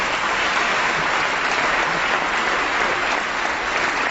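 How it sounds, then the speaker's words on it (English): Steady, dense applause fills a legislature chamber as lawmakers and guests honor the Dalai Lama at the California State Legislature, a loud continuous wash of clapping with no speech over it. "Please join me in another round of applause as His Holiness the Dalai Lama"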